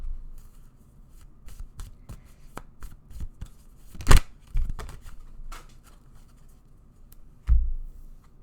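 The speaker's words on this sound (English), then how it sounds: "Let's get a few more cards." Tarot cards being shuffled by hand, a run of soft papery riffles and taps with a couple of louder slaps, close and alone with no talking.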